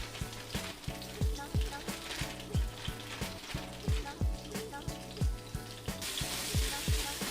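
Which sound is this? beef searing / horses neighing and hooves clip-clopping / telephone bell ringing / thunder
beef searing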